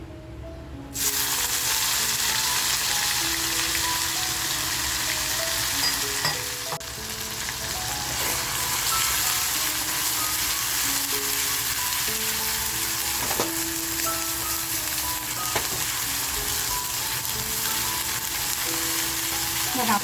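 Masala sizzles steadily in hot oil with a pinch of asafoetida, a loud continuous frying hiss close up, with occasional scrapes of stirring.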